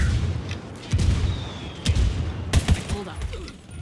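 In Ghost Recon Wildlands, a mortar and gunfire battle rumbles with repeated booms and bursts of shots at middle distance, loud and uneven, with some voice sounds mixed in.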